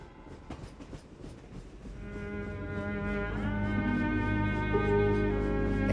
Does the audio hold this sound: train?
yes